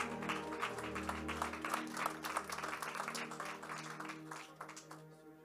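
A church congregation at a Sunday service claps together in steady sustained applause for several seconds, with sustained organ-like musical tones beneath and no voices over it.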